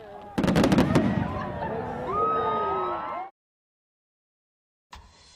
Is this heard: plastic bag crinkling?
no